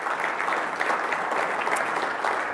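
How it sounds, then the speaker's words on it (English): Audience applause at a customer experience keynote for a real estate company, dense and steady throughout, filling the room without any voices. "I can definitely clap for that."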